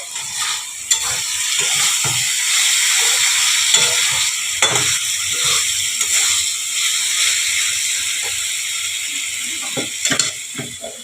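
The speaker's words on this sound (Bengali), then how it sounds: "আমি ঢাকাটা খুলে দিচ্ছি" Bitter gourd cooking with mustard and poppy seed in a pot sizzles and fries steadily, with a few brief metallic clanks as the lid is lifted off and handled.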